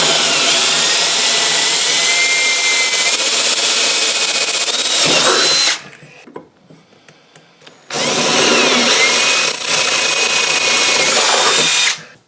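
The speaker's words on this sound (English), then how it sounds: "I'm drilling the hole for the copper pipe to come out the bottom of it so the pressure can get in there." A power drill bores a hole into an aluminum casting for a copper pipe, a loud steady high whine running for several seconds, stopping briefly, then resuming just as strongly.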